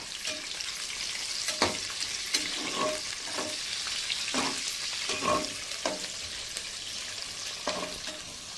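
Onions sautéing in a pan for soya chunks biryani: a steady sizzle with regular spoon-stirring scrapes close by and no voices.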